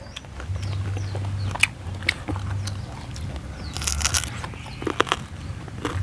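Someone bites and chews thick pieces of crispy Thai pork belly, giving several close, crackly crunches and bursts of chewing at uneven intervals over a low background hum.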